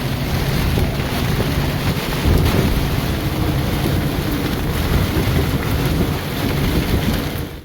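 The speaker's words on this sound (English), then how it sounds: "The rain is fresh. Storms here don't last long." Steady heavy rain hisses over a dense wash of wind buffeting the microphone; no thunder stands out.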